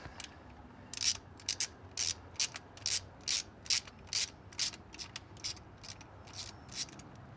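A ratchet loosens a 10mm bolt on a Nissan Pathfinder engine, producing quiet, close bursts of rapid clicking repeated in an even back-and-forth rhythm about a dozen times.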